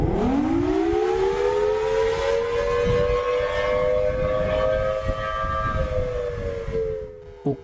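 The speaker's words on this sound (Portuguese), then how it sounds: "mais clara enquanto uma sirene toca." A siren wails continuously as part of a mysterious broadcast on an unknown TV channel, its steady rising-then-holding tone loud and sustained throughout before cutting off at the end.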